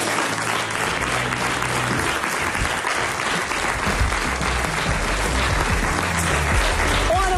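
A television studio audience applauds in a loud, dense, sustained burst of clapping that stays steady from start to finish.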